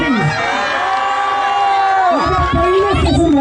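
A festival audience cheers and shouts loudly, with whoops and excited voices rising together in a dense crowd roar.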